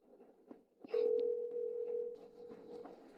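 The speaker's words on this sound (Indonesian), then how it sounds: "Aku akan telepon manajer umum sekarang." A telephone dial tone sounds as a call is placed in an Indonesian drama scene: a steady, unbroken hum that starts after a short click and holds for about two seconds before ending, clear against quiet room noise.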